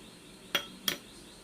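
A utensil knocks twice against a bowl while all-purpose flour is mixed. The two quiet, sharp clinks are close together, with no talking.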